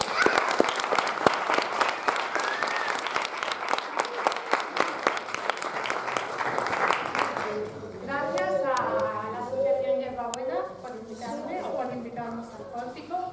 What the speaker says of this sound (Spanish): Vamos a recibir un fuerte aplauso a Susana